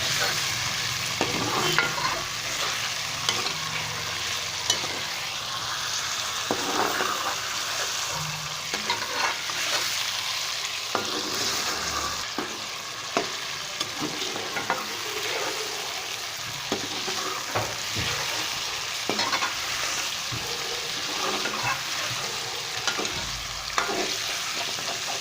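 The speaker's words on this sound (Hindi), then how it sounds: "चिकन को हम तब तक फ्राई करेंगे जब तक चिकन का सुनहरा रंग ना आ जाए" Chicken pieces frying and sizzling in a karahi while being stirred, with steady crackling and repeated scraping strokes of a spoon throughout, close and alone with no talk.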